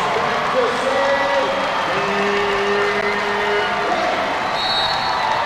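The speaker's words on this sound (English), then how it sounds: "Crowd on its feet" Volleyball crowd at a men's college match, IPFW against Ball State, cheering and applauding steadily as fans rise to their feet at game point, a dense continuous roar with whistles and shouts mixed in.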